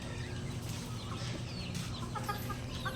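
Hens cluck softly and intermittently against a steady background hum, with several birds making short, scattered calls.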